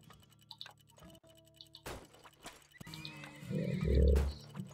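Horses in the oil-drilling game Turmoil, giving a loud, close, drawn-out neigh after light clip-clop and ticking effects, with no talking.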